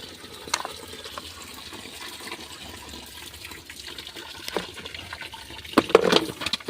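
Water flowing through a garden drip irrigation pipe, a soft continuous trickle and hiss with occasional splashes and gushes growing stronger toward the end.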